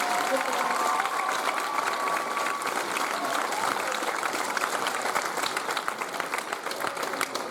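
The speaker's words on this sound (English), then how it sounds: "give one more round of applause" An audience applauds at a spring school band concert and awards night, a dense, even wash of clapping sustained for several seconds with a faint voice briefly audible early on.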